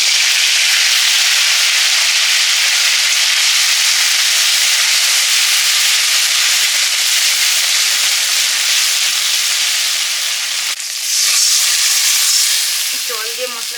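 Mustard-poppy seed paste with turmeric and chili dropped into hot oil for a Bengali fish curry, a loud, continuous close hiss of frying that shifts briefly near the end with a few bubbling pops.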